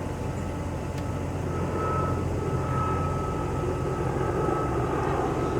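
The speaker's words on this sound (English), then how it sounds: "Here come the helicopters." Helicopters flying overhead make a steady, fairly loud low rumbling drone that holds for several seconds, with no voices.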